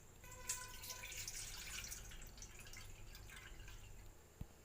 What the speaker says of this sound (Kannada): ಈಗ ವಾಟರ್ ಹಾಕೋಣ